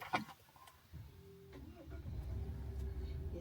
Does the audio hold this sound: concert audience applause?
no